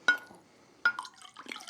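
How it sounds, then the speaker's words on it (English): Water poured from a Tang drink container into a glass, two sharp splashy onsets followed by a trickling, dripping fill, close and fairly quiet with no talking. "More water from my Tang container."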